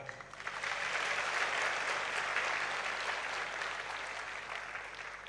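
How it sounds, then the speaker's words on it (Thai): Steady audience applause fills the space for several seconds, a dense wash of many hands clapping at close range, swelling early and holding level before easing slightly toward the end. "วันนี้ขอเสียงปรบมือให้กับทีมงานที่น่ารักผมด้วยครับ"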